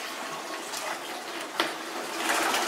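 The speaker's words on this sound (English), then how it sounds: "I pour the water in the other bucket." Water is poured from one bucket into another while cleaning the salt tablet tank of a Kinetico Mach 2050s water softener, a steady close splashing gush that swells louder toward the end.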